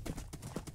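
Horse hooves clip-clop in a quick, steady galloping rhythm from a fast horse in a survival video game, close and clear with no voices over them.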